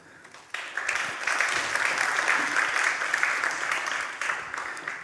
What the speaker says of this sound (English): warm applause for Moritz.